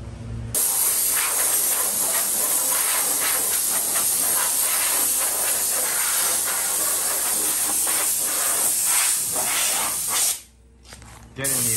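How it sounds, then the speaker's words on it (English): Chrome paint sprayed onto a 1952 Chevy grille, a loud continuous hiss with short pulsing bursts that cuts out briefly near the end. "before we actually spray the chrome onto it"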